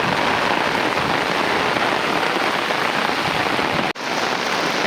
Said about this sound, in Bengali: একদম মুসুল ধারে বৃষ্টি হইতেছে কোনো রকম ছাড়ি না একা ধারে বৃষ্টি হয়ে যাচ্ছে